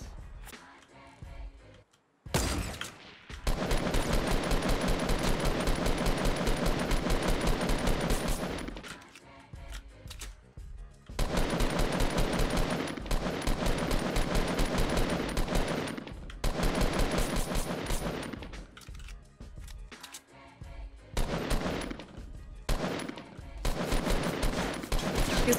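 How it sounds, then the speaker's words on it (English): Loud bursts of automatic gunfire from a Fortnite Battle Royale match fire in long rapid sustained volleys, broken by short silent gaps. "They were shooting someone northeast."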